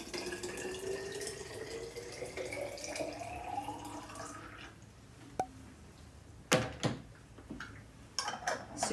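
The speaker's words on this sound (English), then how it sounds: "And top it up with your filtered or spring water if you have it." Filtered or spring water poured from a tap into a jar with sugar for water kefir, a rising fill tone over several seconds followed by clinks and knocks of glass and utensils, close and fairly quiet.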